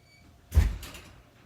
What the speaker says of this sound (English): Sorry about the slamming doors